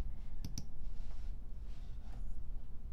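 Computer mouse clicks while working in building design software, a quick double click early on followed by another faint click about two seconds later over low background hiss.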